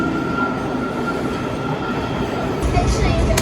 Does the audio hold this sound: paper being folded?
no